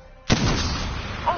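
A video game gunshot booms once, sharp and loud, then rings out in a long rumbling decay over a quiet background hum.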